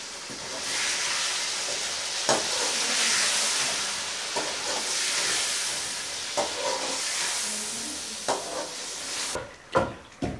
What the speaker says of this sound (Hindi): अब हम इसको 3 से 4 मिनट अच्छी तरह फ्राई करेंगे।